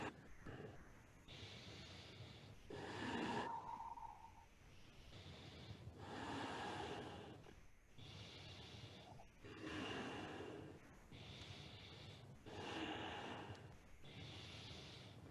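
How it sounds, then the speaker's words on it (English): Long, deep breaths in and out through the nose during Kundalini yoga pranayama, slow rushing inhales and exhales alternating in an even rhythm of about two seconds each, close and quiet. "Really long and deep breathing through the nose, out through the nose."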